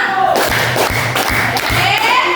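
Children clapping hands in a counting game, a few sharp group claps in an uneven rhythm, close and loud, while a voice speaks over them.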